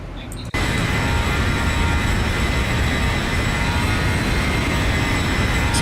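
Boeing 737-800 NG airliner in the Zibo mod for a flight simulator, a loud steady engine and cabin drone that cuts in abruptly after a brief quieter moment, then holds constant with a faint high whine on top.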